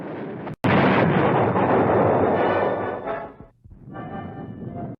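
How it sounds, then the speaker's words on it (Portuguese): A bazooka fires with one sharp blast, then a loud, rushing roar that holds for a few seconds before it fades and a quieter rumble continues. No voices. "A bazuca."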